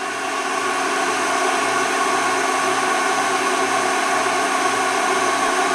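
A loud, steady hum and whine from an induction heater as it anneals brass, holding an unbroken, even drone throughout with no talking over it.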